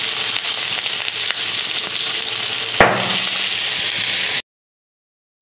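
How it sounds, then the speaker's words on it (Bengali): Onions frying in hot oil in a kadai wok, a steady close sizzle with a sharp burst of spitting partway through, then sudden silence. "এবার আমি কড়াটা বসিয়ে দিয়ে তেল দিয়ে ওর মধ্যে পেঁয়াজগুলো দেব।"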